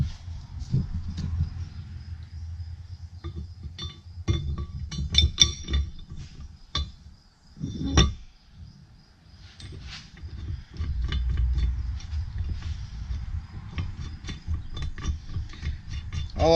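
Metal clinks and ratcheting clicks sound at close range as bolts are tightened to fasten a hydraulic cylinder bracket onto an IH 370 disc harrow, in irregular bursts with a few brief pauses.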